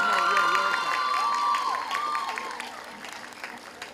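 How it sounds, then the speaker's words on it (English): Applause and cheering from a crowd at a high school graduation ceremony, loudest at first and fading over a few seconds, with voices and shouts mixed into the clapping. "Another round of applause"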